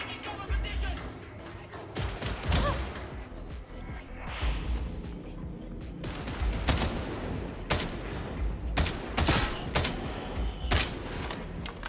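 Secondary-fire gunshots in the Warhammer 40k Boltgun shooter, sharp repeated blasts spaced through a busy stretch of combat with game noise and talk throughout.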